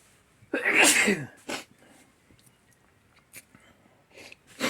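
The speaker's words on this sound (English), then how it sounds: "I got to sneeze" A man lets out a single loud, breathy sneeze up close in a hobby barn, followed by quieter sniffs and small mouth sounds.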